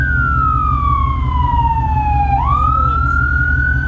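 An ambulance siren on a city street wails loudly and continuously, its tone sliding slowly down and then sweeping back up, over a steady low rumble of traffic, with no talking.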